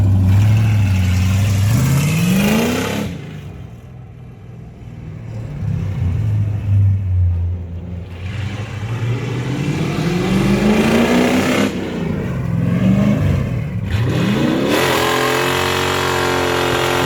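A rebuilt Chevy Camaro Z28 1LE race car engine roars loudly and close, revving up in repeated climbing surges with short dips between pulls and a throaty idle in the lulls.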